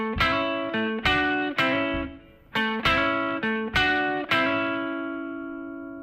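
Electric blues guitar played alone in a clean tone, a short phrase of several picked notes with slurred hammer-on attacks and ringing sustain, up close.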